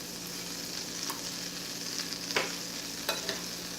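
Butter melts in a pan for roasted butternut squash with apples, a steady low sizzle with a few soft clinks of a utensil stirring, close and moderate, with no talking.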